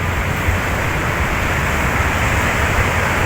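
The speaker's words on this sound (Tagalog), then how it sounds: "Ayun oh, malakas ang alon." Strong sea waves and gusting wind on a beach, heard as a steady, loud, broadband roar of surf and wind that continues without a break and with no voices.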